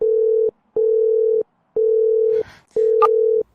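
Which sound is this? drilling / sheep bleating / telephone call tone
telephone call tone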